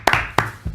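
A small audience at a hackathon award ceremony gives a few sharp, close claps, spaced and sparse rather than sustained applause.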